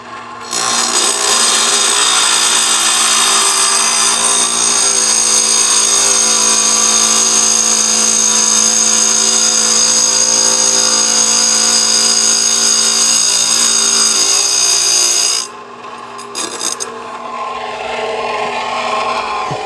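A power saw grinds steadily through river stone tile for a shower wall, a loud continuous abrasive whine for about fifteen seconds before cutting off, then a quieter spin-down.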